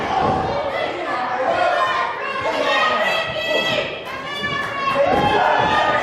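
Wrestling arena crowd at a live indie show, a loud, sustained mass of voices with shouts and jeers rising and falling, a commentator talking over it.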